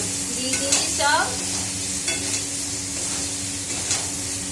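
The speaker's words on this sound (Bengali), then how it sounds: "আর এই যে আলু মটরশুঁটি আলু দম আজকে করবো। ভাজা ভাজা বেশ মশলা হয়ে গেছে।" Potatoes and green peas fry with spices for aloo dum, a constant close sizzle broken by scraping stirs and a few metallic utensil clinks, with a brief faint voice early on.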